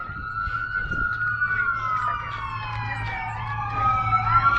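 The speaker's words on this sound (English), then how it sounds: "We're going to hear the siren." An emergency vehicle siren wails near a hospital, a continuous sliding tone that sweeps down and rises again, fairly close and loud over low traffic rumble.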